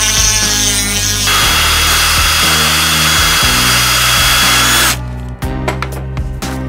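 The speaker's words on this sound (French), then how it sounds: "on n'a plus qu'à découper et à percer" A power tool loudly cuts and drills a Tarot 680 Pro drone frame part, a continuous high whine for about five seconds, then stopping and giving way to scattered clicks and handling noises.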